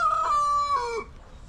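A rooster crows loudly and close by, a long wavering call that fades out after about a second, with faint clucking underneath.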